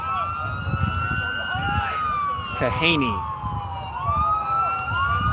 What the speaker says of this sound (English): Pardon the continued sirens, we're almost through them.